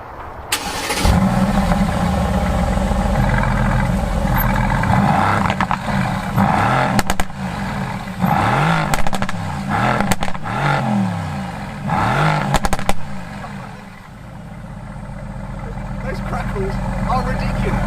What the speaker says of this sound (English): aspirated V8 that used to be in the SLS AMG and C63s sounds amazing